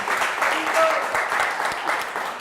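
Audience applause for Ferruccio Tassin at a live Friulian quiz show event, steady dense clapping throughout at a loud, even level, with faint voices mixed in underneath.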